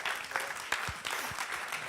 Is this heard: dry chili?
no